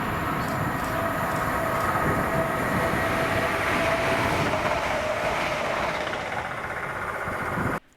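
ScotRail Class 170 train passing through Monifeith station, a loud, steady rumble and rattle of wheels on track with a faint whine, holding close for several seconds before cutting off abruptly.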